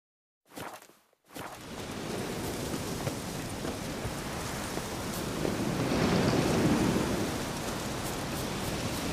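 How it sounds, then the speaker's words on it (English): A thunderstorm with rain in the game The Witcher 3: Wild Hunt: after a couple of short thumps, steady heavy rain hisses, swelling into a low rolling rumble of thunder midway, with no talk. "Looks like rain."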